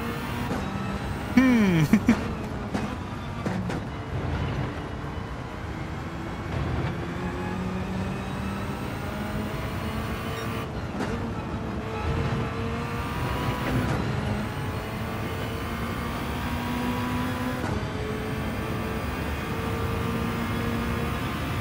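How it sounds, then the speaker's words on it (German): Turbocharged Toyota GT-One race car engine in Gran Turismo 7, a steady engine drone with rising and falling pitch sweeps and a brief louder burst near the start, continuing at even loudness throughout. "das ist ein Auto mit Turbo in Gran Turismo 7"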